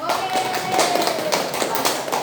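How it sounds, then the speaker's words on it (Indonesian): A classroom group claps together in applause after a student group presentation, a dense, steady patter of many hands lasting a couple of seconds at moderate volume, with a faint voice underneath. "Tepuk tangan semuanya."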